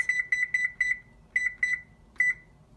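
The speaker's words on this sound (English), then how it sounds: "I'm going to turn that annoying noise off. Actually, I have to set it again." A kitchen timer beeps in quick bursts of three to four high electronic tones, then pauses, with two shorter bursts following while chicken breasts cook. It is clear and close, with no talking over it.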